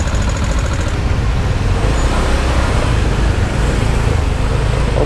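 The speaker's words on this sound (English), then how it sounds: "We're stuck in the traffic." Congested road traffic in Kuta, Bali during rainy, stormy weather: a dense, steady rumble of car and bus engines, loud and close, with a faint high brake squeal, heard alone without talk.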